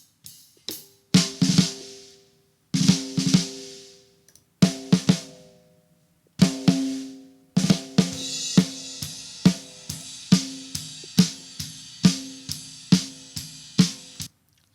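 Three snare drums layered together in a drum mix, struck in a steady pattern of sharp, loud hits, sparse at first with short pauses, then a continuous beat with each crack ringing briefly.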